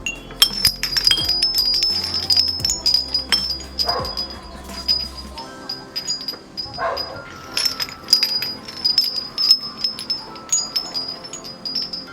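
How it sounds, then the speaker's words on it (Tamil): Ceramic wind chime from a ceramics shop tinkling in a run of bright, overlapping clinks, close and fairly loud, with a low hum early on and no talking. "இது விண்ட் சைமர். இதோட சவுண்டு வந்து வீட்டுக்கு ரொம்ப நல்லது, ரொம்ப அழகாகவும் இருக்குது."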